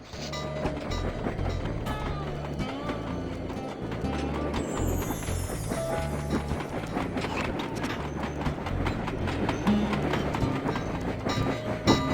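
In the video game Sly Cooper 2: Band of Thieves, a train rolls along with a rhythmic clatter and rumble, joined by hoofbeats galloping alongside, the scene staying busy and loud throughout.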